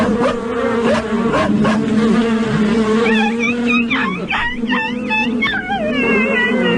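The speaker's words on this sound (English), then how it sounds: "I'm getting attacked by bees." Attacking bees give off a loud, close, continuous droning buzz with wavering, whiny pitch sweeps that rise and fall over the whole stretch, with no voices over it.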